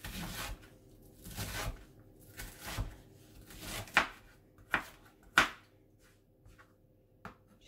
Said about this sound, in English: So then chop it in slices, and then